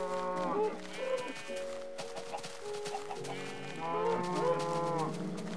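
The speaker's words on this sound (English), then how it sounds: "There's some more cows." Cows in the Minecraft video game give several drawn-out, nasal moos, alternating with quieter gaps and some faint game ambience.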